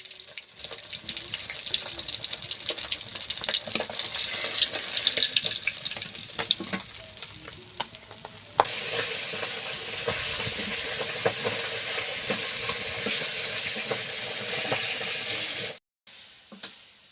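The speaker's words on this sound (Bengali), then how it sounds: "মাছ ভেজে তেল ছিল, সেই তেলে কিন্তু শাকটা জড়িয়ে দিয়েছিলাম, আর শাক ভাজাটা হয়ে গিয়েছে" Greens tossed in leftover oil from frying whole bata fish, sizzling steadily and loudly with stirring scrapes, growing denser partway through before cutting off near the end.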